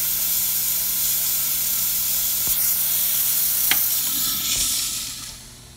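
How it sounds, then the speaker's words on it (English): A strong, continuous hiss of steam from a Quickmill Silvano espresso machine's steam wand, close and loud, with a few small clicks, fading away at the end. "we have a nice strong steam coming out of the machine"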